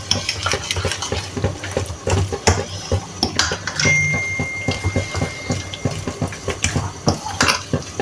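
A spoon stirs gnocchi dough ingredients and an egg in a bowl, with repeated scraping and clinking strokes in a steady rhythm, close and fairly loud.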